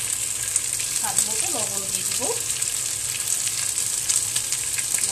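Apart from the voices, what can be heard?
chicken frying in a pan with salt added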